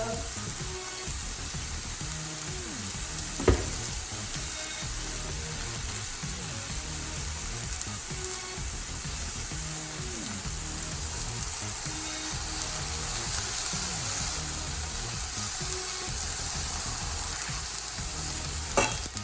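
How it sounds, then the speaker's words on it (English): Food for vegetarian Indian-style poutine frying in a pan while being stirred until brown: a steady, close, dense sizzle throughout with an occasional soft knock of the utensil, no voices. "Just keep stirring till it gets brown."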